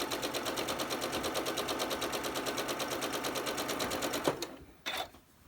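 A sewing machine runs steadily, stitching seams across a pink quilt block with a fast, even mechanical rhythm, then stops abruptly, followed by a brief handling clatter.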